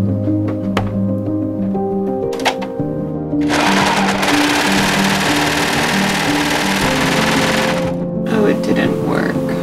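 A sewing machine stitching a suede shirt, with a steady hum and motor tones first, then a loud continuous whirring run of several seconds that stops abruptly, followed by softer handling noises.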